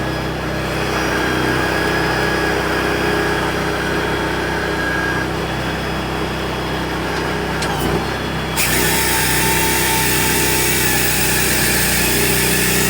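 A firewood log processor runs with a loud, steady engine and hydraulic drone, close by. One brief knock comes partway through, and the noise grows a little brighter afterward. No one speaks.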